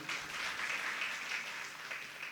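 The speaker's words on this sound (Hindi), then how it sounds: "आप सब अपने लिए तालियां तो बजा लो।" Audience applause at a Jain monk's Hindi religious discourse, a steady, moderately quiet wash of clapping from a seated crowd lasting a couple of seconds, with no talking over it.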